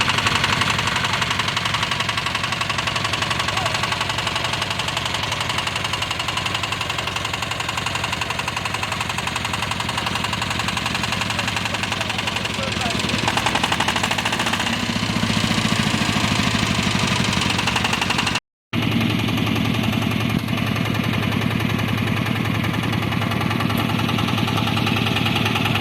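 Power tiller engine running at a training session in Bishwanath Charali, Assam, a loud continuous knocking, chugging mid-pitched drone close by, with a brief dropout near the end before it resumes.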